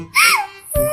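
A cartoon sparrow cries in a high, wavering animated voice, one short wailing phrase rising and falling, followed by a brief thump and a sustained tone, loud and close.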